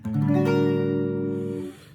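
A single minor barre chord strummed once on guitar, ringing steadily for about a second and a half before being cut off.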